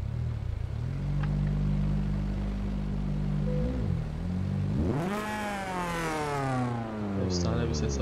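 A Honda EP3 Type R with a Varex exhaust revs hard in Euro Truck Simulator 2, its pitch sweeping sharply upward and holding high, with a steady low engine drone and someone talking throughout.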